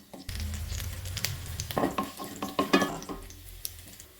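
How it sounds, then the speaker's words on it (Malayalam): Curry leaves hit hot oil while a snack mixture is made, bursting into a loud crackling sizzle with spattering and stirring against the pan, close up and without talk. "അതിലേക്ക് കറിവേപ്പില ഇട്ട് കൊടുക്കണം"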